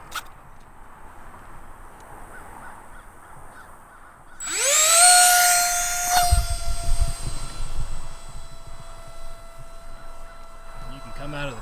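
A micro electric ducted fan model jet spools up abruptly to a loud, piercing high-pitched whine at full throttle, holds a steady tone, then drops into a rushing roar and wind noise, with voices nearby.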